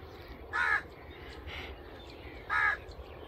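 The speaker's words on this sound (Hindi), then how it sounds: "कौवा जो है ना ये काएँ काएँ पता नहीं क्यों कर रहा है" A crow cawing twice outdoors, about two seconds apart, harsh and moderately close, with a faint third call between them over quiet background noise.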